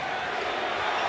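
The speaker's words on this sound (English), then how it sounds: "This crowd on its feet." Dense, steady roar of a basketball arena crowd on its feet during Game 7 of the 1988 NBA Finals, Lakers versus Pistons, a broad continuous wash of voices with no distinct peaks.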